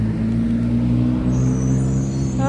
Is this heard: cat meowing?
no